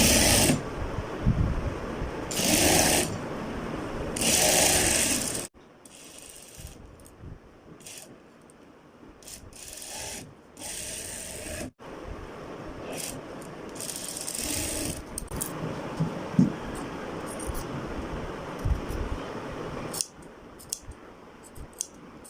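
A sewing machine stitches the leg seam of a kid's kurta in several bursts of rapid, rhythmic mechanical clatter, separated by quieter pauses with handling clicks, close and fairly loud.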